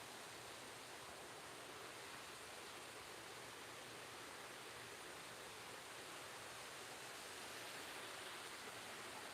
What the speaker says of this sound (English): Now you see the waterfall close up.